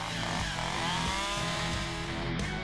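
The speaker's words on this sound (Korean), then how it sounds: "나뭇가지를 손질하기 위해 전기톱은 필수" An electric chainsaw used to prune tree branches high up in a tree runs loud and close, a steady high-revving buzz that shifts in pitch, with no talk.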